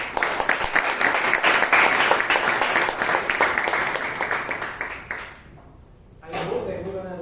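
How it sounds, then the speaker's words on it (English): Applause from a Toastmasters meeting audience, a dense burst of many clapping hands for about five seconds that fades out, followed by someone starting to speak. "Just a one round of applause again."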